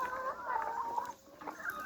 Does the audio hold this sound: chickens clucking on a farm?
yes